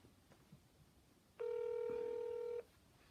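Touch-tone keypad dialing on a U.S. Customs and Border Protection phone line: one steady beep of a bit over a second, loud and clean over a faint hiss, with no voices.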